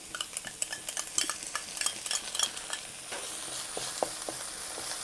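Ginger garlic paste stirred and frying with onions in a pan for a chicken curry, a steady sizzle under repeated scraping and clinking of a spoon against the pan, close and moderately loud.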